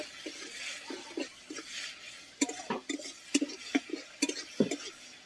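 A utensil scrapes and stirs ginger paste, dried chilli, cumin, turmeric and salt in a cooking pan, giving a quiet series of rhythmic knocks and scrapes that grow more frequent toward the end.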